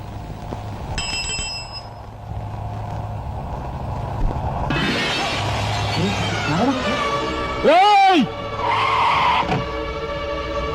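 A car skids in a Telugu action movie scene, a brief swooping tire screech rising over dialogue, background score and engine noise.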